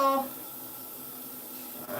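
Running tap water splashes steadily into a sink as a dog's water bowl is rinsed, a constant hissing wash at close range with no voices.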